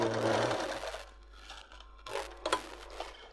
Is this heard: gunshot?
no